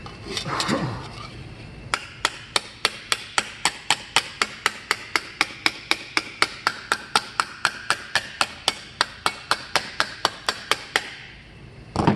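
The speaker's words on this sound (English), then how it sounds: "Now we're going to planish it out a little bit, hammer our dents smooth" A hammer planishes an aluminum armor greave, a long run of about thirty sharp, evenly spaced metallic strikes ringing close and loud, with a brief scrape at the start.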